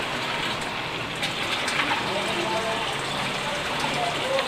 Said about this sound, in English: there's a little gurgling noise you can hear as soon as I put the bell siphon back on